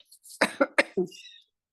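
A few sharp coughs in quick succession, close and fairly loud, followed by a faint higher hiss trailing off.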